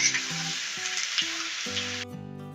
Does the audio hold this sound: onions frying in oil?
yes